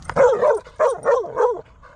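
A small dog barks four times in quick succession, close and loud, with short yelping tones and brief gaps between barks.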